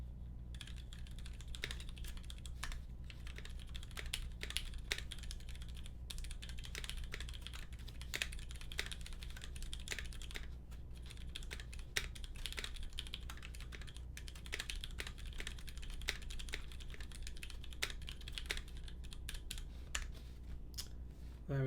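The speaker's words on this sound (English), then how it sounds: "sound typing test of lubed retooled blacks in a keyboard 661" Steady, continuous typing on a KBD 661 mechanical keyboard fitted with lubed, retooled black switches on heavy 125 g springs, with the case not fully screwed together; close, dense clacking keystrokes heard alone without speech.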